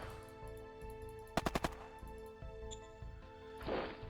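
Gunfire from units attacking in the Shadow Empire strategy game: a quick burst of four or five sharp shots in a row, followed by a few scattered softer impacts and a rushing blast, over a steady musical background.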